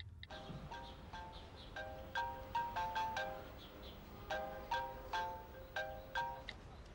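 A telephone ringtone chirps in repeated short melodic bursts, coming in two clusters with a brief gap, fairly clear against a quiet indoor background.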